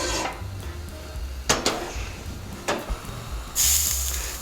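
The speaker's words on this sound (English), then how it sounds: "now we're ready to go and start searing our pork" Pork tenderloin searing in a hot pan gives a steady hiss of sizzle, broken by a few sharp clanks of metal against the pan and a louder spattering surge near the end.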